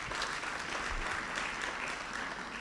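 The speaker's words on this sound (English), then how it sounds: "I think he deserves an applause" Applause from an audience at a book launch event, a soft, distant, continuous patter of many hands with no distinct individual claps.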